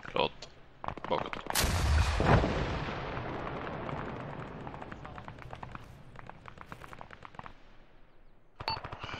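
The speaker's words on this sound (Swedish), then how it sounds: "Sätt ett skott till igen." A loud booming blast with a long rumbling decay, followed by scattered sharp gunshot cracks of video game combat, with a tank burning from an ammunition fire, and another burst near the end.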